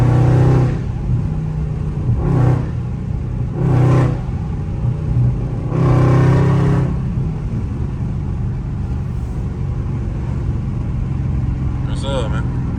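Loud Dodge Scat Pack with valves open, driving in traffic: a deep engine rumble swelling in several short revving bursts, then settling to a steady drone, with someone talking over it.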